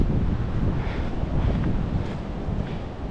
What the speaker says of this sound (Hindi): देखो हवा चल रही, हवा कितनी तेज हो गई है